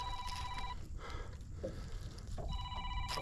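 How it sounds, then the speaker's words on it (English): A phone rings twice outdoors on a late-summer bass fishing trip, electronic trills separated by a pause, faint against wind and water noise. "oh, phone's ringing."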